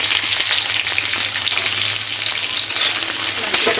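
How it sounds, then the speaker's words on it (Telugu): Tempering spices sizzle and crackle in hot oil in a pan while making carrot fry, a loud, continuous frying hiss with occasional stirring clinks and no talking. "పోపు దినుసులన్నీ వేసుకుంటున్నాను."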